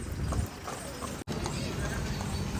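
Horses' hooves clip-clopping at the Nabha horse fair, a busy outdoor market, with a brief whinny and crowd noise steady underneath; one short dropout midway.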